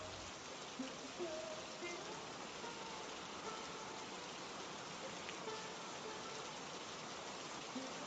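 Steady rain falls outside in a Hindi cartoon story, a dense, even hiss of drops that holds at a moderate level throughout without a break.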